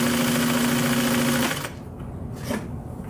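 An upholstery sewing machine motor hums loudly and steadily up close, then cuts out into quieter handling noise and a brief clatter.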